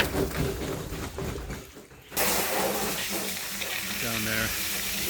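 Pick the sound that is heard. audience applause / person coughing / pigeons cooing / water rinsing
water rinsing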